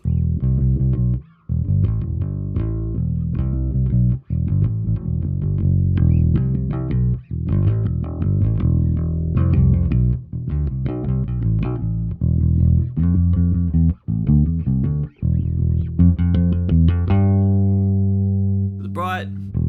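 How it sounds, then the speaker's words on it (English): A bass guitar through a Brainworx Ampeg SVT-VR Classic amp plugin on the normal input plays a steady run of warm, vintage-toned plucked notes with brief gaps, ending on a sustained ringing note. "To the normal input, you can hear that bass kind of come up, a little bit more volume too."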